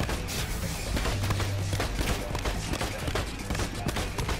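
Rapid incendiary-bullet gunfire in the shooter game Narco Terror, a dense continuous burst of loud shots with booms that fills the whole clip.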